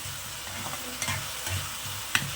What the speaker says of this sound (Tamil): டமேட்டோ வந்து நல்லா கிரேவி ஆகுற வரைக்கும் நல்லா ஃப்ரை பண்ணிக்கணும்